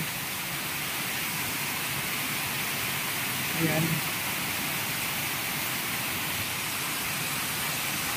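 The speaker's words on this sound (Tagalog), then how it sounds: "ito yung sitwasyon sa labas, napakalakas ng ulan" Heavy typhoon rain pours outside a hut, a dense, unbroken hiss that fills the whole stretch, with strong wind mixed in and someone speaking briefly in the middle.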